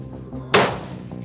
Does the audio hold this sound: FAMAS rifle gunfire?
yes